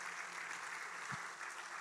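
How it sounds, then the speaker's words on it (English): Church congregation applauding the newly baptized at an Easter service, a steady wash of clapping from a crowd heard at moderate distance, brief and even throughout. "Can we clap it up just for this time for the people that got baptized?"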